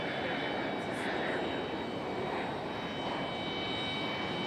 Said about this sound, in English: company aircraft passing one another here